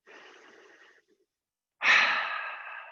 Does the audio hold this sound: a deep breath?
yes